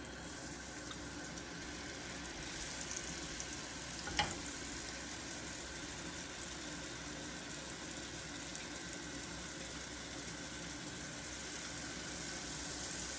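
Achappam batter with sesame, coated on a rosette mould and dipped into hot oil, fries with a steady soft sizzle and bubbling hiss, plus a single faint clink partway through.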